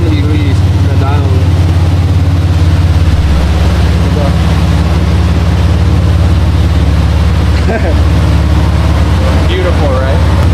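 Nissan Z with a stock VR30 twin-turbo engine and big Z1 turbos held at full throttle on a dyno, a loud, steady, droning roar with a slight pitch step early on, sustained throughout, with speech-like voices faintly mixed in.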